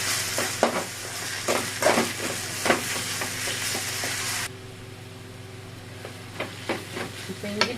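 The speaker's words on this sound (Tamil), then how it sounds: "இஞ்சி பூண்டு பச்சை வடை போகிற வரைக்கும் வதக்கிக்கோங்க" Ginger garlic paste and onions sautéing in a pan make a steady sizzle punctuated by regular scraping and clinking strokes of a spoon, louder at first then quieter, with a low background hum.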